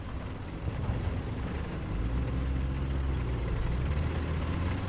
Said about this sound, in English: Well, that sounds like a tank.